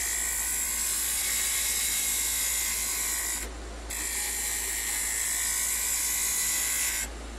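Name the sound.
skew chisel cutting wood on a lathe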